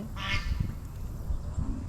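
A short honk from a black-necked, brown-bodied goose at Hafer Park, Edmond, Oklahoma cuts through a low background rumble, followed by a few faint calls.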